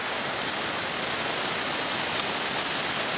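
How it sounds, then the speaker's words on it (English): A simulated rainstorm pours water down an A-frame roof, producing a loud, dense, unbroken hiss and rush of spraying and running water that stays steady throughout, with no voices. "We'll give it 30 seconds or so of a good rainstorm. You see the water running down."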